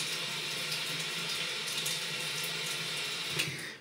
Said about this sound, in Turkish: Önce bir sıcak suyla yıkayalım.